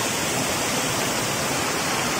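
Alibang waterfall on Yangmingshan pours in a constant broadband roar of falling water, close and steady, with no voices.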